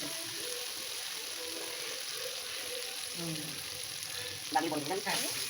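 Ginger added to onions frying in a pan makes a steady, close sizzle throughout, with a brief stir or clatter near the end.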